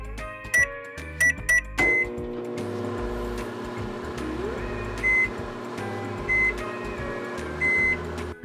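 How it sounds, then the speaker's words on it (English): A microwave oven heating play dough hums steadily, with a few sharp beeps at the start and more beeps repeating at intervals during the run, close and clear with no talk. "Now we're going to put this in the microwave and see if it becomes a dough."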